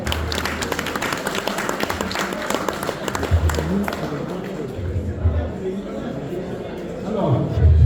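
Audience applause and cheering at a 60th birthday celebration in Paris: dense clapping with crowd voices and a speaker's voice over it, fading toward the end as a low rumble rises.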